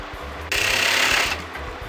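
A sewing machine runs in one steady, fairly loud burst of under a second, stitching pin tucks into fabric for a top, with quiet room noise before and after.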